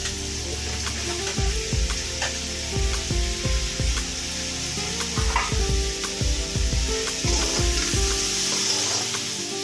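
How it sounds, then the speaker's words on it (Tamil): Onions and tomatoes sautéing in a pan for ridge gourd chutney, with a loud continuous sizzle and repeated rhythmic scrapes and clatters of the spatula stirring close up. "வெங்காயமும் தக்காளியும் நல்லா வதங்கி வச்சு இப்போ இந்த ஸ்டேஜில் நம்ம வெங்காயம்"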